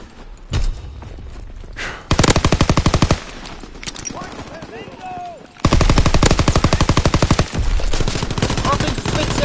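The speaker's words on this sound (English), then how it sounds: "Fire coming from behind!" Rapid automatic gunfire from a PS4 shooter game comes in two long, loud bursts with dense, even repetition, separated by softer game noise and scattered thumps.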